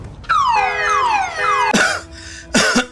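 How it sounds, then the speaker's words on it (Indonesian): A car alarm blares close by, cycling through falling whooping sweeps and then harsh repeated bursts, loud with no voices over it. "mengakibatkan alarm mobil itu berbunyi"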